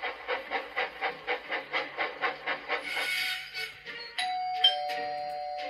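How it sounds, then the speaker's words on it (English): A doorbell chimes in a quick run of about a dozen evenly spaced rings, then a hiss and a sustained electronic tone follow. "Was that a doorbell?"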